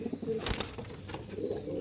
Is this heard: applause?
no